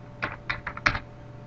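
A handful of quick keystrokes tap on a computer keyboard, close and crisp, in a short irregular burst.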